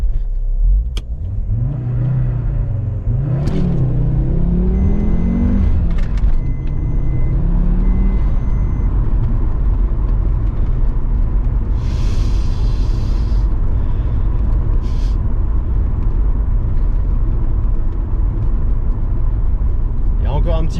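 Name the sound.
Audi S6 engine running after exhaust repair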